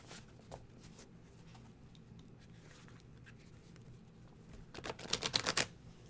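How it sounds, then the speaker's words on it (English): Soft, scattered rustling of handled tarot cards, then a quick flurry of crisp card flicks near the end as the deck is shuffled. "I'm shuffling."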